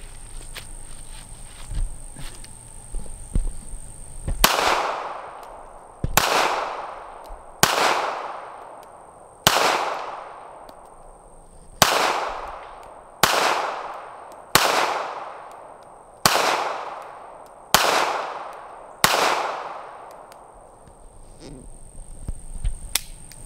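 A Smith and Wesson Bodyguard 2.0 .380 pistol fires ten sharp, loud shots outdoors, spaced roughly one to two seconds apart, each crack trailing off in a brief echo, with crickets chirping in the background.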